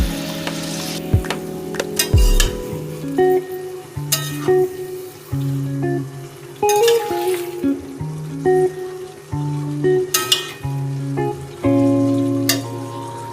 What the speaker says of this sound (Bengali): মশলা কষানোর পর জল সমেত মোচা সিদ্ধটা দিয়ে দিলাম।